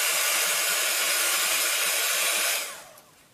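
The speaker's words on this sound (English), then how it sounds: "just be sure to hold the heat gun a little bit away from the clay so it doesn't bubble up" A heat gun blows steadily as it force-dries paint on clay, giving a loud, constant hiss of rushing air that drops away sharply near the end as it switches off.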